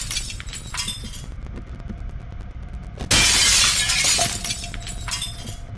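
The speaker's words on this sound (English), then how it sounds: "Shatter the glass!" Glass shattering in the video game Poppy Playtime, a sudden loud burst of crashing breakage that rings on for about a second over a murmuring game background.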